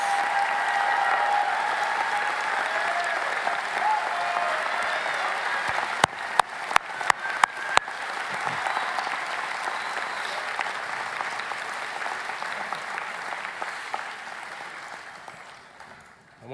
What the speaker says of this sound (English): Could I ask for a round of applause now for our newly formed graduates?